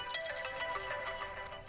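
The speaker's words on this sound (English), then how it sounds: "I'm getting a phone call right now." A mobile phone's ringtone plays on a beach during a fishing outing: a repeating melodic electronic tone pattern, steady and fairly close, with no talking over it.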